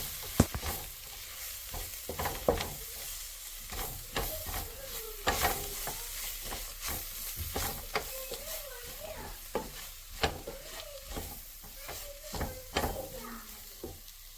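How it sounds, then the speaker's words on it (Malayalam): Spice powders fry with garlic and ginger for a chicken curry, sizzling steadily in a pan while a spoon scrapes and stirs in repeated strokes, close and moderately loud with no talking. "വെളുത്തുള്ളിയും ഇഞ്ചിയും ഒക്കെ നന്നായി ഒന്ന് മൂത്ത് വന്നപ്പോൾ നമുക്കതിലേക്ക് ആവശ്യമുള്ള മസാലപ്പൊടികളൊക്കെ ചേർത്ത് നന്നായിട്ടൊന്ന് മിക്സ് ചെയ്ത് കൊടുക്കാം"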